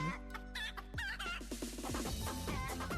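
Chicken clucks from a Colonel Sanders stream game, a busy run of squawky clucking calls that repeat loudly and continuously over a layered electronic backdrop, with no talking.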